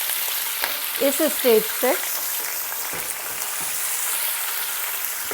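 Steady, bright sizzling from chicken added to onions frying in a pot for chicken pulao, loud and continuous, with someone briefly speaking over it.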